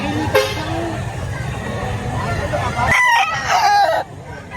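A rooster crows loudly and close in the latter half, after murmured background talk and scattered farmyard noise at a chicken market in Lipa, Batangas.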